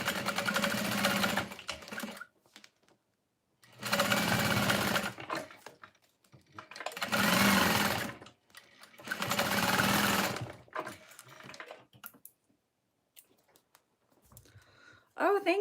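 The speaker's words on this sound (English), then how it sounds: "So I'm going to go ahead and top stitch along the sides here." A sewing machine top stitches along the sides of a fold-over bag, running in four steady bursts of rapid mechanical whirring separated by short pauses, close and clear.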